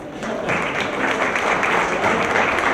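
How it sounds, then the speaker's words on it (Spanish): Audience applause at a panel discussion for a public information and data protection diploma, steady clapping sustained for about three seconds at moderate loudness, with no talk over it. "Les pediría, por favor, un aplauso en general."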